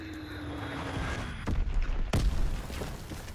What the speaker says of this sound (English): Dropping a zone bomb.